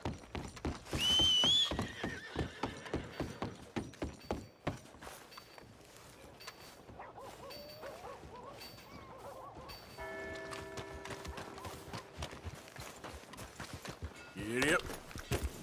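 A horse in the video game Red Dead Redemption 2 whinnies loudly near the start, followed by rhythmic clip-clopping hooves, with a voice speaking over them and a short chime near the end.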